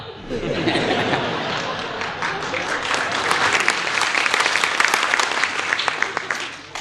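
Live audience applause with scattered laughter and chatter at a Gujarati comedy jokes performance, a dense, steady wash of clapping sustained for several seconds at close range.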